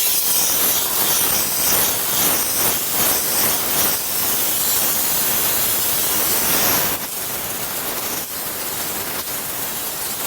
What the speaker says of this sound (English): take the steamer to all the cracks and crevices